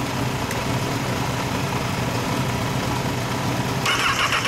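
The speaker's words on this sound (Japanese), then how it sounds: "エンジンを聞かせて。" A 2010 Honda CBR1000RR sport motorcycle idles steadily nearby, an even, continuous engine drone with no revving and only a faint clatter near the end.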